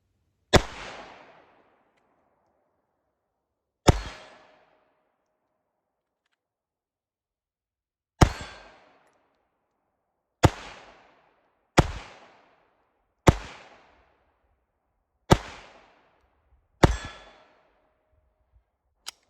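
A CZ vz. 27 pistol fires nine sharp, loud shots at uneven intervals, each a crisp crack with a short ringing decay, spaced several seconds apart at first and then coming quicker.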